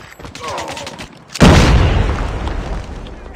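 A grenade detonates in the Call of Duty video game: a sudden loud, deep blast that rumbles and decays over about two seconds, preceded by a brief quieter stretch with a voice.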